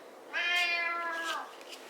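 A single drawn-out cat meow, clear and fairly close, lasting about a second in an otherwise quiet room.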